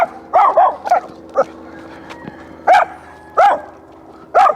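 A leash-reactive dog barks repeatedly while out on a walk, sharp close barks in short bursts of one to three with brief pauses between them.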